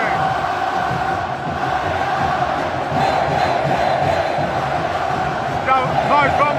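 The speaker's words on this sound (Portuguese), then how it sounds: "Já acabou o jogo há muito tempo e a torcida do Flamengo não sai do estádio, gente." Flamengo supporters packing the Maracanã stadium long after the match against Atlético MG, a massive continuous chant with whistles near the end, loud and enveloping, with a voice talking over it.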